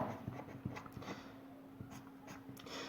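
Numbers being written on a board during a math lesson, a series of faint, scratchy strokes at irregular intervals over a low steady hum, with no speech.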